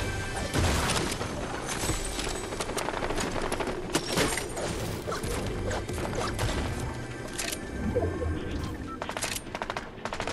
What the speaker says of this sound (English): there's kids shooting down there